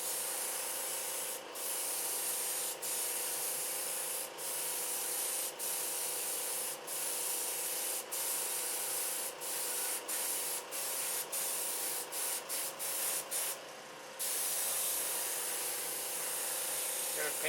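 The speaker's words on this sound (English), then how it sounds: "Spray it on until it's all covered." Primer sprayed onto a car door, including its inside, as a steady, close hiss of the spray gun that runs continuously and breaks off in short regular pauses between passes.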